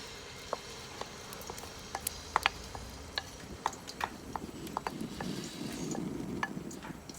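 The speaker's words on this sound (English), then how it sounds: "So I'm gonna add my paste into the mustard oil." A steady sizzle of spice paste frying in hot mustard oil, with sharp clicks and scrapes of a utensil stirring in a pan, close by and with no talking.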